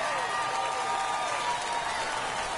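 Home crowd at a San Antonio Missions minor league baseball game roars and cheers after a tiebreaking home run, a dense, sustained wall of crowd noise at steady loudness.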